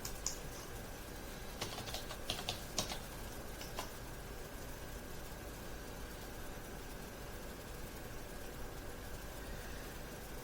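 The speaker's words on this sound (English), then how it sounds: "Begin by typing in your search keywords and hitting enter" Someone types on a computer keyboard with a short, close burst of quick, light clicks, then goes quiet over a faint steady background hum.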